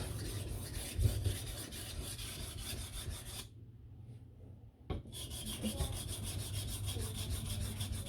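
A custom knife of MagnaCut steel drawn across a coarse sharpening stone in repeated rasping strokes, close and clear, with a brief pause midway before the rhythmic scraping resumes.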